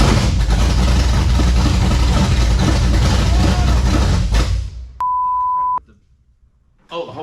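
A small block Chevy V8 in a Nova, running on E85, rumbles loud and close at idle for several seconds, then cuts off abruptly; a steady electronic beep follows, with brief talk near the end.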